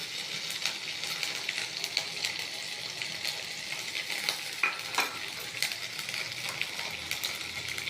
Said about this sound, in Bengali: আদাটা ভীষণ ছিটকাচ্ছে